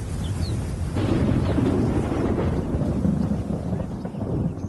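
Deep thunder of an approaching storm rumbles continuously over the African savanna where lions roam, a low, sustained roll that stays steady and loud throughout.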